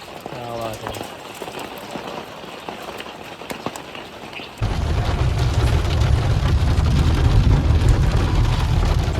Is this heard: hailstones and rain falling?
yes